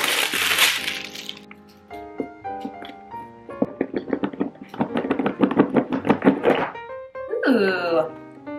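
Massage gun package being opened and unpacked, with a run of close, sharp clicks, knocks and rustles of packaging in irregular bursts, and a brief voice near the end.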